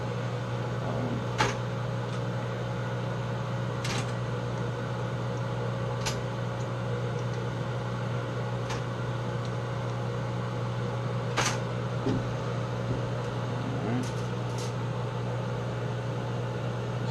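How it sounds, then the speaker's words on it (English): A fan runs steadily to pull fumes away while soft plastic jig lures are poured into a Do-it mold, a constant hum with faint clicks and knocks scattered over it. "I want to run my fan regardless."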